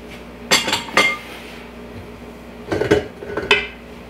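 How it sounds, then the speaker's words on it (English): Utensil clinking against a bowl as batter lightened with egg whites is stirred, two close clusters of sharp knocks and scrapes separated by quieter gaps, with no one speaking. "So now I give it a really good stir."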